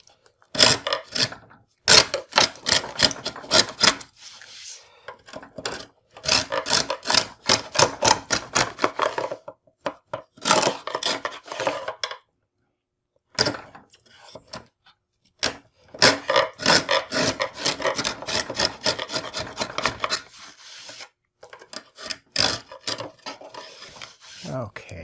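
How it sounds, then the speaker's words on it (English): A hand chisel pares wood from a tenon, giving dense runs of crisp scraping and tapping strokes in bursts separated by short pauses, close and fairly loud, with no talk. "it just helps to get rid of some of this with a chisel"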